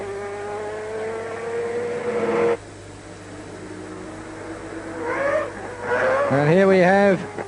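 A Mazda 787B race car at the 1991 Le Mans 24 Hours, heard as a loud engine tone that rises in pitch, cuts off abruptly, then returns with revving near the end, under a commentator's steady talk.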